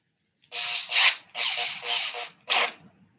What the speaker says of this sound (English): We just need to drill through here.